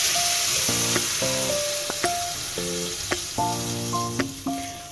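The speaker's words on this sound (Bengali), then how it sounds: "মশলাটা ভাজা ভাজা হয়ে গেলে দিয়ে দিতে হবে সামান্য একটুখানি জল।" Spice paste frying in a pan for a red, spicy fulurir jhol (lentil-fritter curry): a constant soft sizzling hiss sits beneath a run of short, distinct tonal notes.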